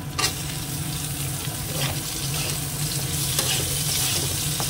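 Pumpkin pieces sizzle and crackle in a hot pan of oil while being stirred, with a steady frying hiss and occasional scraping clinks, close and clear, no talking.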